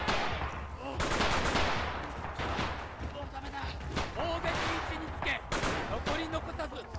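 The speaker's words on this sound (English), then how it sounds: "He's got the submachine gun. He's got the Type 100." Rapid gunfire from a Type 100 submachine gun in the World War II shooter Red Orchestra 2, with repeated bursts over continuous battle noise and a voice talking throughout.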